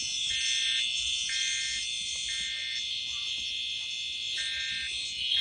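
A fire alarm sounds during a test, a continuous high electronic tone with a faint pulsing beep repeating about once a second, steady and fairly close, with no talk over it.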